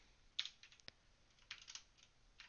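Code is typed on a computer keyboard in short irregular bursts of soft, close key clicks with a quiet background.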